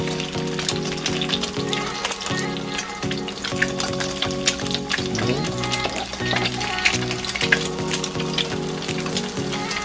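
An egg fries in oil in a pan as part of a Filipino tocino, garlic rice and egg breakfast, with steady crackling sizzle and popping throughout, fairly close and continuous with no talking.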